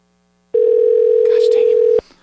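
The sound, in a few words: telephone dial tone while calling a phone number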